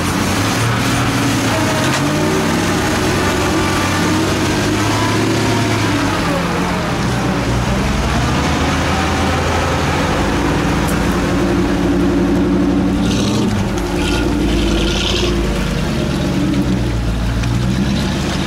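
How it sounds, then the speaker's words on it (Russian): A GAZ-66 'Shishiga' truck straining in second low gear through reed-covered ground, its engine a loud, continuous drone that rises and falls as it revs hard, steady throughout with no talk. "газ в пол, топтать все, что есть. Вторая пониженная, я думаю, сейчас проедет шишига"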